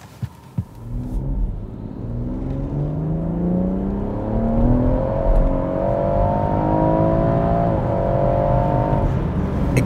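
A BMW M140i accelerates hard on a public road, its engine note climbing steadily through the revs with a throbbing rumble, heard loud and close from inside, no talking.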